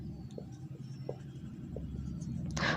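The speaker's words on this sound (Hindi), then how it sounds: "लिखते हैं कोई ट्राइनोमियल" A math expression, a trinomial, being written on a board: a light, scratchy stroking texture with a few short taps, close by, under a faint murmur of voice.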